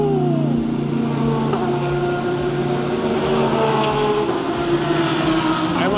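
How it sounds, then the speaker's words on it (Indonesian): A Mercedes-AMG GT race car at a GT World racing event passes with a loud, sustained engine drone and shifting pitch over steady crowd and track ambience. "Emang beda ya auranya kalau mobil balap lewat, suaranya tuh aja udah bikin happy."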